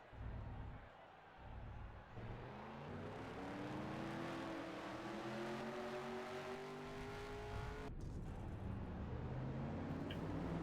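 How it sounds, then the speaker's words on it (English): Race car engines rev and drone steadily in a Cars Piston Cup racing video game, a sustained rising engine whine that holds throughout with a brief break near the end. "Drivers, start your engines!"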